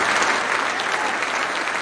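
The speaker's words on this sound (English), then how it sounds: "Round of applause for all you guys." A loud, dense round of applause from a crowd, steady clapping filling the short stretch with no voices over it.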